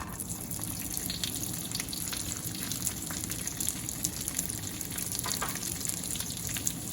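Diced pork sausages fry in hot oil in a wok on high heat, giving a steady, dense sizzle and crackle that holds evenly close by for several seconds with no talk.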